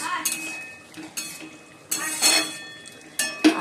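Marinated chicken being fried in a pan, with intermittent scraping and clinks of a utensil stirring against the pan between quieter stretches of soft sizzle.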